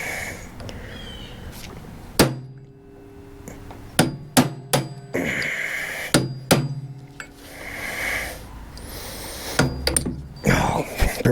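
A hammer strikes a pin on an Ariens ST824 snow thrower, sharp metallic blows landing singly and in quick clusters among handling noise and low rustling.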